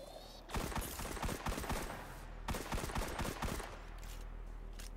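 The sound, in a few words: Minimum Distance kinetic pistol firing in the video game Destiny 2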